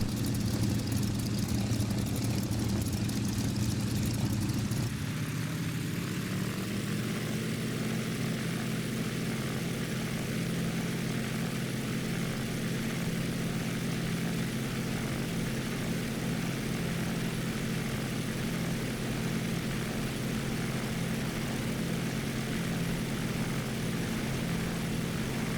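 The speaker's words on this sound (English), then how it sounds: "listen to the sounds of the radial engines of the Yak" A Yak-12A radial piston engine in a Prepar3D flight simulator throttles up from idle into a steady, loud takeoff drone that holds for the whole stretch, with no talking.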